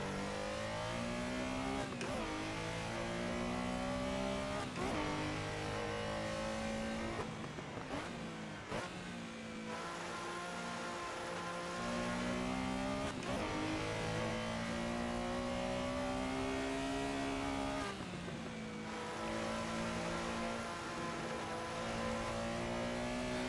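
Porsche Carrera RSR 3.0 racing at Barcelona in Assetto Corsa, a loud sustained engine howl rising and falling through repeated gear shifts and throttle lifts, steady throughout with no talking.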